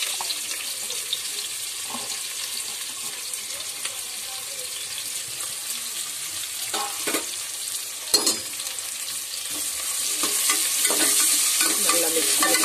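A quarter kilo of cut onions frying in hot oil for prawn biryani, a steady loud sizzle with scattered stirring scrapes, swelling slightly toward the end.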